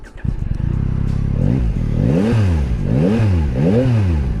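A Yamaha XSR900 motorcycle engine catches with a clattering start, then revs up and down repeatedly in sharp rising and falling bursts, loud and close.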